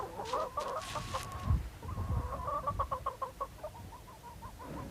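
Chickens bought from villagers on a Silk Road journey clucking in rapid, repeated calls, moderately close, over a low background rumble.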